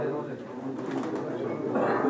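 Pigeons coo softly beneath a steady murmur of crowd chatter at a pigeon auction, the birds' calls blending into the busy background.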